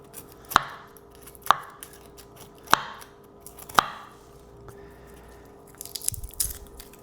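Garlic is chopped with a knife: four sharp, separate board strikes spaced about a second apart, close and clear, then a softer flurry of small cuts and scraping near the end.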